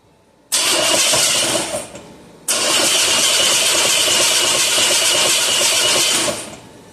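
An engine mounted on a dyno with a Ford C4 transmission fires up abruptly, runs loud for over a second and drops off, then catches again and roars steadily for about four seconds before fading out.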